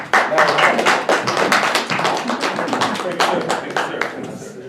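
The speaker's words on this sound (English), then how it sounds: "let's give a great round of applause" Applause from an audience at a talk in Dallas, a dense burst of many hands clapping close and loud, running steadily for several seconds without voices.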